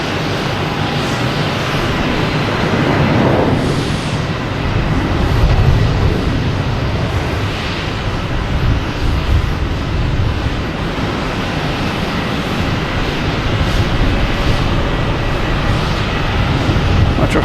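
An Austrian Airlines airliner taking off at Boston Logan Airport, a broad jet roar swelling and holding steady at moderate distance across the whole stretch.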